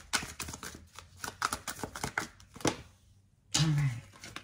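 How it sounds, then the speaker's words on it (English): Tarot cards being shuffled by hand in a quiet room, a run of soft riffling slaps and flutters, fairly close, with no talk over them. "So maybe give it a good shuffle."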